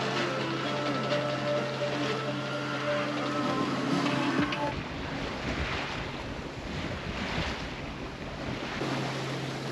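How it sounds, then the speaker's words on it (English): A sailboat tacking in good winds on the Pacific Ocean near the Galapagos, with continuous wind noise and the rush of water against the hull, steady and close throughout, plus a low engine-like hum early on. "A last bit of extra sailing, some tacking, but in good winds."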